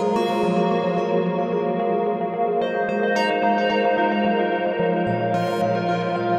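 A dense, layered music loop in Bitwig washed in reverb and echoing delay, sustained and steady at a moderate level throughout.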